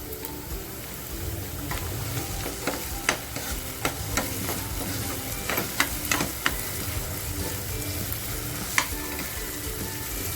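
Tomatoes hit a pan of frying onions for a spicy fenugreek-leaf and dried-prawn dish, giving a steady close sizzle broken by scattered clinks and scrapes of stirring.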